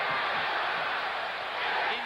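Dense, steady roar of a large stadium crowd at Orchard Park during a 1988 NFL game between the Minnesota Vikings and Buffalo Bills, a continuous loud wash of cheering with no breaks.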